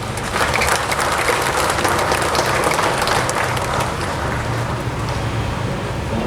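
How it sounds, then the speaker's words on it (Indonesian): An audience at a morning assembly and award ceremony claps in sustained, dense applause for the full stretch, loud and even, with no one speaking over it. "Tepuk tangan dulu."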